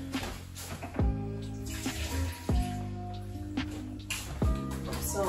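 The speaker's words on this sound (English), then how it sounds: "So in goes some water." Water pours into a pot of simmering homemade salsa, a gurgling splash with a few sharp bursts as it goes in and the sauce bubbles, alongside faint background noise.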